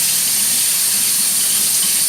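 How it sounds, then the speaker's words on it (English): Water running steadily from a tap while hands are rinsed, a constant close hiss and splash with no talking. "we're going to go ahead and rinse our hands"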